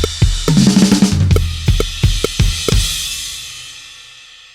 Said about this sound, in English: he plays the six-stroke roll figure, which is very Motown-like